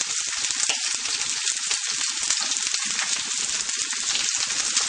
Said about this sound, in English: Just turn on your heat to low and let the onions and garlic cook.